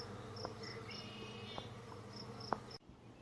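Honey bees buzz around a busy hive at the height of summer, a soft, dense hum with occasional clicks and brief louder passes, fairly faint, cutting off near the end.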